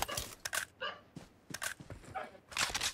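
A dog barking in the mobile battle game PUBG Mobile, several quick, fairly faint barks and yips spread across the moment with no talk over them.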